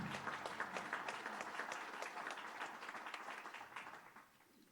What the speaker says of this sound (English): Please join me in a round of applause for this act of excellence.